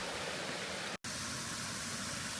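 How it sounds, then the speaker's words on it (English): Water cascades down the River Spean near Roybridge, Scotland, as a steady, close rushing roar. A split-second dropout breaks it once, then the flow continues unchanged. "One last look at some cascades on the River Speen before I head off away"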